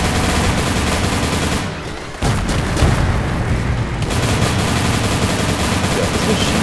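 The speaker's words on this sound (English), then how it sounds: "this machine gun is not gonna play around" A machine gun fires in a video game, a loud sustained roar of rapid shots that dips briefly in the middle before resuming at full intensity.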